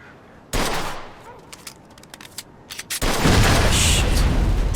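Gunfire in the Mafia video game: a sudden loud burst, then scattered sharp cracks, then a dense, sustained roar of shooting at close range, with no talk.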